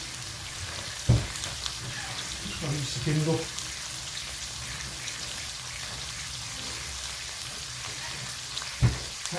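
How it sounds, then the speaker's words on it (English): A steak sizzles in a frying pan, alongside chips and broccoli, a soft steady crackle and hiss under a voice, with a couple of sharp knocks of the pan or utensils. "The steak's still sizzling."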